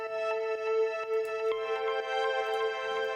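A sustained synth pad in a melodic house track made with Ableton stock plugins: a bright, rich harmonic chord held steadily, with soft rhythmic pulses and ticks running through it at moderate volume.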